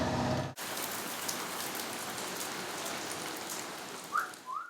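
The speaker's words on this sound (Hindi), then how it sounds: "मार्च की पहली बारिश है दोस्तों, मजा आ गया।" Steady rain of the first March shower falls, a dense, even hiss of drops on surfaces close by, with a couple of short whistle-like chirps near the end and no talking.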